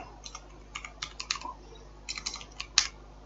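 Rapid, irregular clicks of a computer keyboard as C++ code is typed, arriving in two short bursts of keystrokes with a brief pause between, close and moderately loud with no talking.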